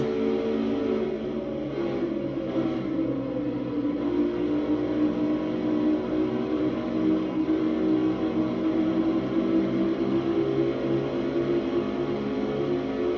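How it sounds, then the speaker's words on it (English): A stock car in a racing video game runs flat out down the front stretch at Homestead. It makes a sustained, even engine drone that holds steady throughout, alone without commentary. "Down the front stretch he goes, over 195, 198 miles an hour."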